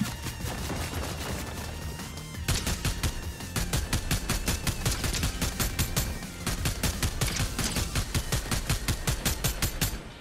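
Rapid automatic gunfire in the Fortnite video game, loud and close, with sustained bursts of evenly spaced shots rattling on without a break after a brief lead-in.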